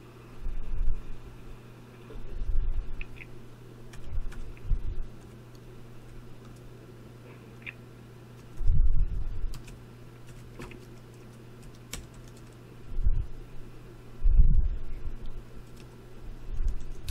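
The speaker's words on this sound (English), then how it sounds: "Sorry, I'm not that good at typing." Keys on a computer keyboard tap in scattered, irregular bursts, quiet and close over a faint background hiss, with a few louder low thumps between the clusters.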